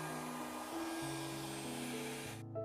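A hair dryer blows continuously and fairly close while drying a transparent watercolour painting of a bellflower, a steady whirring hum that cuts off abruptly at the end.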